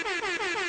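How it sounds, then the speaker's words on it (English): A loud air horn blares in quick repeated pulsing blasts, brassy and continuous throughout. "Let's do the air horn for Richard Simmons."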